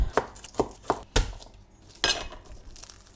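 A knife slicing garlic thinly on a cutting board, a run of four evenly spaced sharp chops followed by a pause and one more cut, close and clear with no talking.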